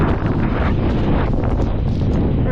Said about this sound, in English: this has to be like 70-mile-an-hour winds